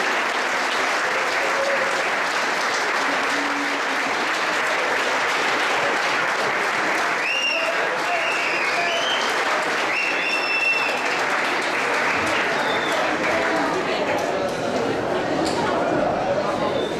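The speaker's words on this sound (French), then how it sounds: "Encore les applaudissements une fois." Sustained audience applause at a school graduation ceremony, a steady dense wash of clapping from a large crowd across the whole stretch, with a few faint voices and whistles rising above it midway.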